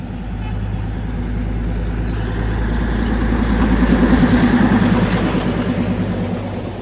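A Darjeeling toy train rolling past near Ghum station, a loud, steady low rumble of engine and wheels that swells toward the middle and stays close, with faint background voices.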